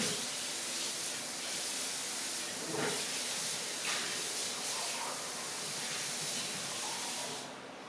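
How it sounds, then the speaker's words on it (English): Running water rinses out a dye bottle lid clogged with dried tie-dye, a steady close hiss of spray that fades out near the end. "So let me rinse this out."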